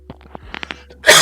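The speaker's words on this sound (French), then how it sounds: "Je tousse un petit peu." A person coughs once, a sudden loud burst after a few faint clicks and small noises in a quiet indoor room during a live stream.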